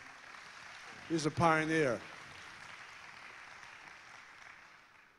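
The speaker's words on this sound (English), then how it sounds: "Round of applause right here, ladies and gentlemen." Light audience applause runs faintly beneath a brief spoken remark from one man near the start, then continues as a soft, steady patter of clapping that slowly fades out.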